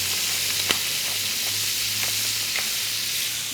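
Baby octopus frying in a pan after a pinch of salt and pepper, giving a steady, moderately quiet sizzle with a few brief pops and crackles over its continuous hiss, no voices.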